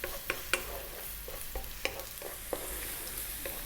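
Chopped onion and garlic sizzle steadily in a hot pan over medium-high heat, with a run of sharp scraping stirs and clicks rising above the constant close frying hiss.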